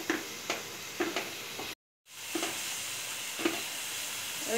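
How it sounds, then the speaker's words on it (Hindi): Masala paste sizzling in a pan with cauliflower and potato, a steady frying hiss broken by regular soft stirring scrapes, with a brief gap of silence partway through. "फ्राई कर लूंगी अच्छी तरह से"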